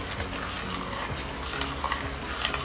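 Rice kheer is stirred in a pot as it cooks, a close scraping and swishing of a spoon against the pan over a soft bubbling simmer.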